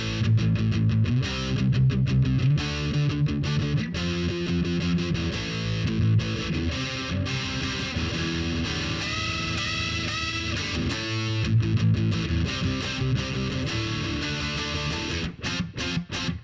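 Overdriven electric guitar power chords played in a punk-style rendition of "House of the Rising Sun", loud and continuous with chugging rhythmic strums and brief pauses between chord changes.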